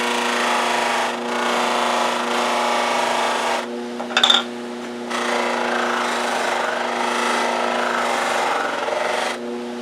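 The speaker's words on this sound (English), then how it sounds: "we'll put some carnauba wax on this buffer" Buffing wheel charged with carnauba wax polishing a wooden plane tote, a steady whirring rub with a constant motor hum, a brief break and a sharp knock midway before the buffing resumes.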